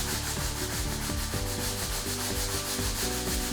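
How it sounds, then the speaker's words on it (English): A deck brush scrubs a Polytek floor hard in fast, rhythmic back-and-forth strokes, a continuous rasping rub close up with no talk. "I now am gonna take the deck brush and scrub much harder."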